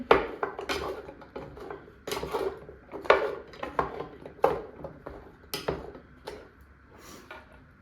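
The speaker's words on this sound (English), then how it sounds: "I'm gonna mix that together." Utensil scraping and clinking against a bowl while breakfast casserole ingredients are stirred together, a steady run of close, irregular knocks and scrapes with no talking.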